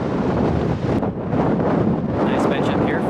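Steady wind buffets the microphone on an exposed Pacific Crest Trail mountainside, a continuous loud rumbling roar that stays alone throughout with no break.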